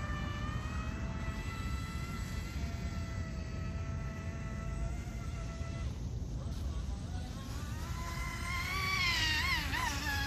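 The steady high whine of an MHZ Micro Iceberg RC boat motor at quarter throttle on a 4S battery, with rising tones as it speeds away and a voice heard faintly.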